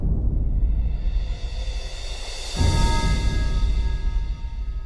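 Percussion from a music production mix sounds as a dense, noisy rolling texture, dipping briefly before a fuller section enters with sustained tonal layers, steady and loud.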